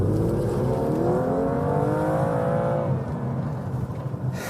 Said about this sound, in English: I've just executed what is apparently called a smoky burnout, there to allow you to indulge in a degree of wheel spin while the car is travelling at low speeds